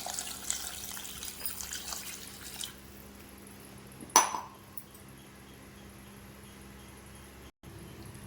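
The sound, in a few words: water poured into cooking pot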